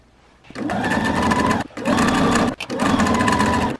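A sewing machine runs three steady, loud bursts of stitching around a corner of a holiday gift project, pausing briefly with the needle down to pivot between runs.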